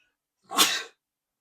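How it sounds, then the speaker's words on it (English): A single sneeze, close and fairly loud, bursting out sharply and fading within half a second, with silence before and after. "intuitive sneeze confirmation"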